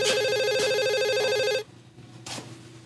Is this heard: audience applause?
no